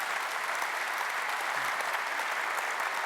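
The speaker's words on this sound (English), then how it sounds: "Please give a round of applause." A large audience at a business presidents' summit gives sustained applause after a talk on competition in the accounting industry, a thick, even wash of clapping that holds steady throughout.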